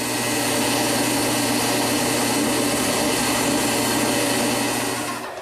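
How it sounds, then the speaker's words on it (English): A power drill bores holes through wood for corner chair parts, a steady high motor whine that holds at one level for about five seconds before winding down, with no voices. "I want to drill holes on these interior cuts so I can feed the blade through"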